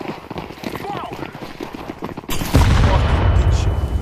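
Video game combat with rapid gunfire rattling through the first half, then a loud grenade blast bursting in and sustaining a heavy low rumble to the end.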